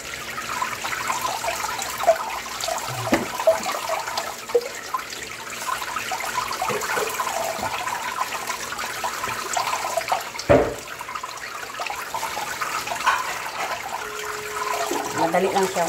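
Altari radish is washed under running tap water for kimchi, a steady close rush of water running throughout with occasional splashes and handling knocks.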